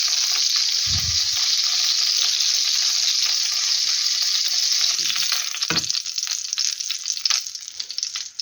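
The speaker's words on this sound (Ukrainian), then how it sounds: "Я їх під кришкою смажила отак." Close, steady sizzling of cutlets frying in a covered pan, with a couple of brief clatters and the hiss growing more crackly toward the end.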